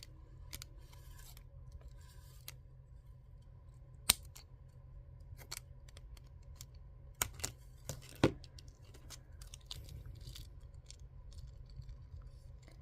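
Scissors snip through material near the microphone while attaching button pins to kandi, with a few sharp, separate cuts standing out over a low background hum and no voices.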